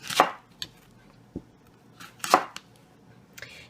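A knife slices through a whole ambrosia apple, giving a few crisp, close cutting strokes spaced irregularly, with quiet gaps between them.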